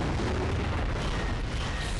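A Redeemer superweapon detonates in Unreal Tournament 3, a deep rumbling blast that rolls on as a dense, steady roar for about two seconds with no voices.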